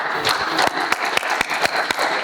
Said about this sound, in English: round of applause for all of you, us.